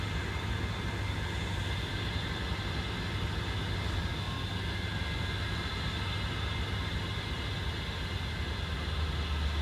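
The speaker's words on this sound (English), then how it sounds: "They're running, but they're just sitting here running, parked." Parked CSX diesel locomotives idle in a rail yard: a steady, moderately distant droning rumble with constant broadband noise and no change in pitch.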